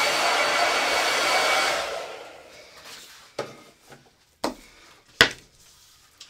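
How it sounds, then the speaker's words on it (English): A handheld hair dryer blows loudly and steadily for about two seconds, then cuts off, followed by a few sharp knocks and clatters of it being set down and handled. "So I'm just going to grab my hair dryer over on the side."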